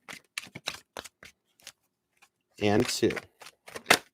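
Tarot cards being shuffled: sharp, clicking riffles in short bursts, close up, with a brief spoken word among them.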